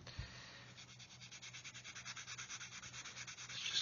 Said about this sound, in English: I'll just give the surfaces a quick sand over with a sanding stick